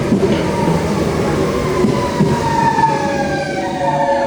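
A train pulls into the R1 Hospitalet station platform, a loud, steady rumble with rising and falling high-pitched wheel squeal and brake whine as the cars roll in close by.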